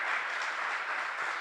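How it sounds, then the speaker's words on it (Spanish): A church congregation bursts into steady, dense applause for the Lord during a Spanish-language sermon. The clapping is full and even throughout the brief moment, with no speech over it. "Dale un buen aplauso al Señor."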